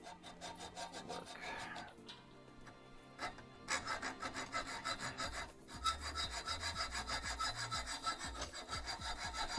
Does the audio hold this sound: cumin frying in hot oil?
no